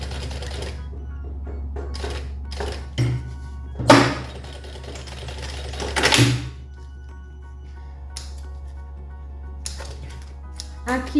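A sewing machine stitches a rectangle on a lunch box strap in short bursts of rapid mechanical whirring, separated by pauses, with a couple of louder thumps and someone talking in between.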